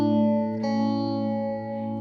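Electric guitar run through an effects unit with distortion, chorus and echo, playing a sustained chord; steady, ringing tones that shift once midway and fade slightly, with no talking.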